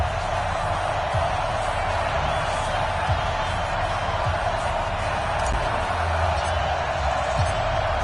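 Steady, dense stadium crowd roar from the Madden 20 video game at a Los Angeles Rams versus Dallas Cowboys matchup, a constant loud wash of cheering that holds level throughout.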